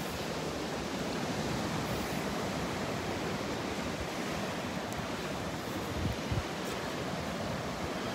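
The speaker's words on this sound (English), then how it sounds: "the surf is up. Got a little bit of wave action this morning" Steady, close surf rolls onto a beach at Delnor-Wiggins Pass in North Naples, Florida, on a morning with some wave action: a continuous broad roar of breaking water and foam with little variation and no voices.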